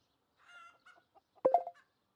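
Hens clucking in the farming game Farm Manager World, a brief burst of clucks that grows louder near the end after a few quieter calls, with no speech.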